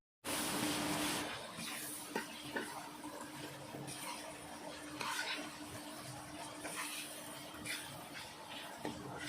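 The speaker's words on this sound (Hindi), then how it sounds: "तो मसाले को अच्छे से मिक्स कर लेते हैं और फिर से स्टीम कर रखेंगे" Spices are mixed through a pot of potato and tinda curry, with wet scraping and stirring strokes over a continuous watery hiss, close and moderately loud throughout.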